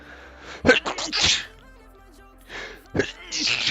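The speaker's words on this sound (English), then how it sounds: "Hold on, I'm going to sneeze, I think." Two sneezes from one person in quick succession, each a sharp, close intake followed by an explosive burst, separated by a short pause with faint background game music.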